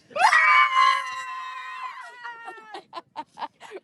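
A rowing team screams together at a race finish, a loud, sustained shared yell lasting about two seconds, then breaking into a quick run of short whoops and cheers.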